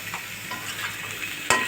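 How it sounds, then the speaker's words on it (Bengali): Eggplant being added to onions and oil in a pan, a soft steady sizzle ending in a sudden louder hiss as the pieces hit the hot oil. "এখন আমি বেগুনটা এই পেঁয়াজ আর তেলের মধ্যে দিয়ে দিলাম।"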